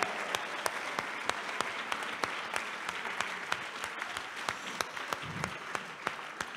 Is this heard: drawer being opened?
no